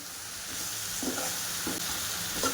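Raw mango slices simmering in jaggery syrup on a low flame for a sweet-spicy methamba, a soft bubbling hiss with a few faint stirring scrapes and clinks.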